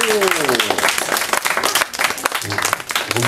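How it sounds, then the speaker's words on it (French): Studio audience applause welcoming a guest onto a TV set, loud dense clapping with a voice speaking briefly near the start and end. "nous vous demandons de l'accueillir sous un tonnerre d'applaudissements"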